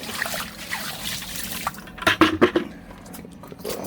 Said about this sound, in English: Discard this water down the drain.